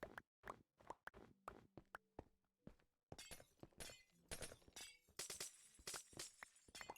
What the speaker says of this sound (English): I love how it sounds like I'm breaking glass when I'm grabbing ice